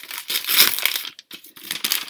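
Paper and plastic packaging from a Secret Santa gift crinkles and crumples close by in bursts, with a short pause near the middle before the rustling resumes.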